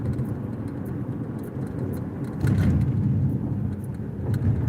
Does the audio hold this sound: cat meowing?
no